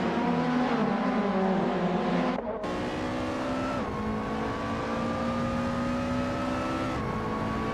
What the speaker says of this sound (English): Patsorts is cruising in a 26 Alfa Romeo 156 Toy.